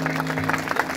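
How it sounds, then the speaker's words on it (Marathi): Brief crowd applause for the organisers at a public gathering, close and steady clapping lasting about a second over a low droning hum, with no voices heard. "एकदा जोरदार त्यांच्यासाठी टाळ्या झाल्या पाहिजेत मंडळी"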